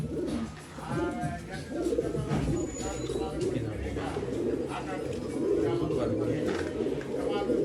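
Domestic pigeons, an Anekal regular male and a Dhooma female, coo in soft repeated throaty bursts at close range, with someone talking over them and faint chirps in the background.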